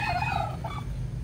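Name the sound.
geese honking on a goose farm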